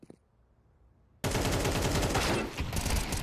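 Sustained automatic AK rifle fire in a competitive shooter match, a quiet lull breaking suddenly into a dense, loud burst of rapid shots that continues to the end.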